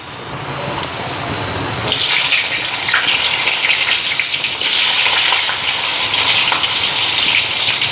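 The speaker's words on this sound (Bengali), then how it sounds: "আলু পটলগুলি দিয়া দিই" Potatoes and pointed gourd, freshly washed, drop into a generous amount of hot oil with cumin and burst into a loud, steady sizzle that surges and holds close by, with no talk over it.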